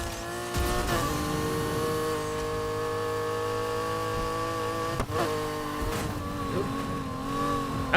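A car in a Need for Speed racing game howls at high revs while its tires squeal through a drift, the engine note holding steady with a few abrupt shifts and skid bursts, loud and continuous with no talking.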